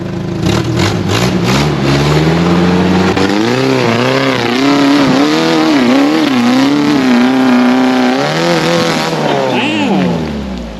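A Jeep XJ on factory shocks climbs an off-road obstacle, its engine loud and near, rising and falling in pitch as the revs swell, hold and ease under load.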